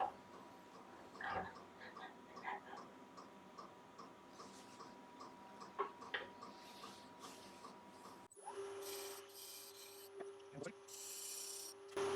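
A small woodturned piece is sanded on a spinning lathe, giving a soft, steady rubbing rasp at low level, followed by a brighter whirring stretch near the end.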